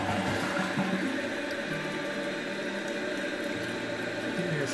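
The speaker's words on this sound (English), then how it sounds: "So we did a full flush on that one." A dual flush toilet runs a full flush, giving a loud continuous rush of swirling, gurgling water close by that holds steady throughout without any talk.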